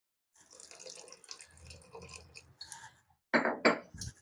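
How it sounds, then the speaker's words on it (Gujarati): Water is poured into batter in short splashing bursts, close by, with quieter clinks and handling sounds before the louder pours near the end. "તો આપણે આમાં થોડુંક પાણી રેડશું"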